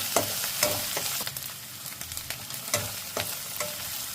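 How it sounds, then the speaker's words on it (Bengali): Ginger garlic paste frying in a pan, a steady soft sizzle broken by repeated sharp scrapes and clicks of a stirring spoon against the pan, close and fairly quiet. "ভালো করে ভেজে নিলাম।"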